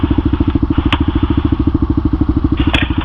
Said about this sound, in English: tested the bike out, and so far it's running real good